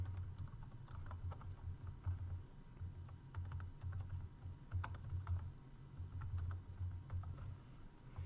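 Quiet, steady typing on a computer keyboard, a run of soft clicking keystrokes over a low background hum.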